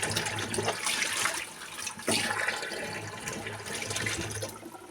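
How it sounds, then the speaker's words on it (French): Hot water pours steadily from a tap into a container, a continuous splashing rush that holds at a fairly even level throughout with slight surges, close by and with no talking. "Je vais mettre de l'eau chaude. Voilà, de l'eau chaude."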